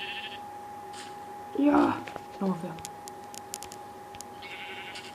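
Sheep in the mobile game Minecraft PE bleat twice in quick succession, short and fairly close, while someone speaks French over steady game background sounds and scattered clicks.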